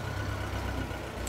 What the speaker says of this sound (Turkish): Traktör de geçiyor.